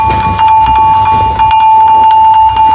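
A bell rings with a sustained steady tone, struck repeatedly at a slow pace with clanking accents over a low background rumble, loud and close with no talking.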